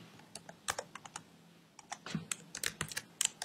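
Code is typed on a computer keyboard: brisk, irregular bursts of close key clicks with brief pauses, and no voices.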